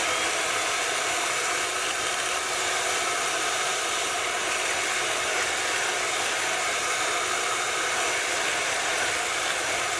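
Electric mixer beaters whipping cream on high speed, a steady loud whirring drone with an airy hiss, unbroken and close for the whole stretch, no voices.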